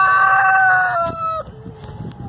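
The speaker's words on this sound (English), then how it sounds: "In this chicken tractor over here, we have Rhode Island Reds and Golden Laced Wyandottes." Rhode Island Red and Golden Laced Wyandotte chickens in a chicken tractor: a loud, drawn-out crow rings close by, then softer scattered clucks follow.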